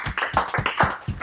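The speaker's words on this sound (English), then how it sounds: "So I guess a little round of applause for you guys." A small audience at a UN social media workshop gives a brief round of applause, a quick run of sharp, close claps at an uneven rhythm, lasting just over a second.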